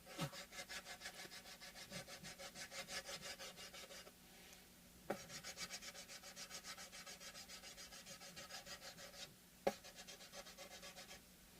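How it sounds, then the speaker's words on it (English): Rhythmic back-and-forth scraping of abrasive on a wooden guitar bridge, steady strokes in close succession, pausing twice briefly with small knocks between bursts. "I was sanding in this direction"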